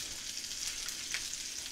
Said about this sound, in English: we're getting these brats all browned up here